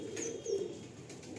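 Male Madrasi pigeons being released give a few soft, close coos and chirps over a quiet background for a brief moment.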